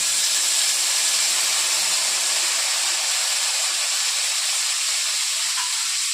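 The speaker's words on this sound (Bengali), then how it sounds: "আলু ভাজার তেলের মধ্যে তেজপাতা আর গোটা গরম মশলা দিয়ে দিচ্ছি।" Bay leaves and whole garam masala sizzle in hot oil left from frying potatoes, a steady, even hiss that stays close and fairly loud throughout with no talking over it.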